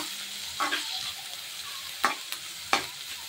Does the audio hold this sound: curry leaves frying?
yes